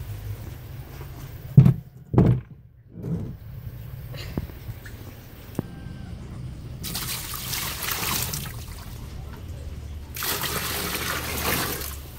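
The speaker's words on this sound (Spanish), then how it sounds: "echarle agua en el bote aquí y ahí" Water poured and splashing into a pet turtle's plastic tub during cleaning, a few sharp sloshes early, then steady running and gushing water swelling in bursts toward the end.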